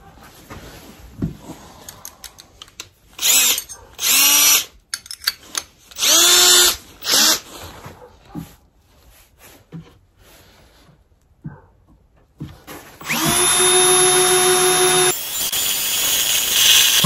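A power drill bores a 1-inch hole for an electric cord through a homemade boot dryer box, with several short close bursts of loud whirring and a longer sustained run near the end, separated by quiet pauses.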